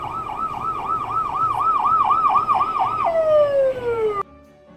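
A loud ambulance siren wails in rapid repeating cycles, then shifts to a falling tone before cutting off abruptly, leaving low road noise.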